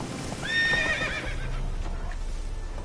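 Roach, a horse in the Witcher 3 video game, gives a short, clear whinny early on, followed by soft hoofbeats and a low rumble of movement, close and without speech.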